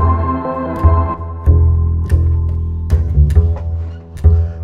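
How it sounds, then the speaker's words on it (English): Acoustic double bass plucked alone, a few round, deep, booming notes ringing one after another, close and fairly loud. "Acoustic bass sounds like this."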